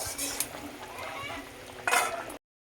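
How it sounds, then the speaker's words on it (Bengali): Fried fish in a thin pointed gourd curry is stirred in a pan, with soft scraping and bubbling simmer sounds, a few light utensil clinks and a brief louder clatter near the end before it cuts off. "দিয়ে এটাকেও আমি একটু নাড়াচাড়া করে নেব"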